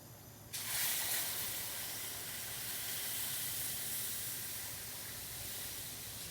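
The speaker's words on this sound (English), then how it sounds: "I'm going to keep whisking, and I'm going to add this hot milk to it" Hot milk streams into sausage gravy under steady whisking, a broad hissing, sizzling wash that starts abruptly after a brief quieter lead-in and then holds loud and even to the end.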